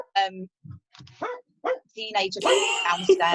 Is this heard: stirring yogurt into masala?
no